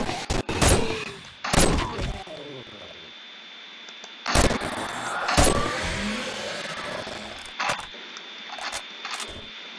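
Gunfire in the video game 7 Days To Die comes as loud, sharp shots, a few closely spaced at first and then more spread out, each ending in a brief echoing tail over a faint background hum.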